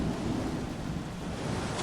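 Rain and thunder, a dense continuous wash of rainfall with a low rumbling underneath, steady and fairly faint throughout.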